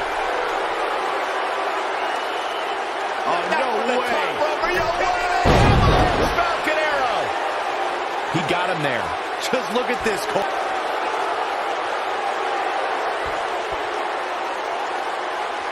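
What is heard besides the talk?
raucous wrestling crowd in Philadelphia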